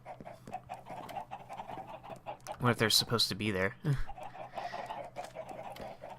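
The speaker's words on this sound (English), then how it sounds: "Where there must be chickens underneath this." Chickens cluck on a video game server, with several short, close clucks and squawks in a burst mixed with panting-like sounds, while a person talks quietly over them.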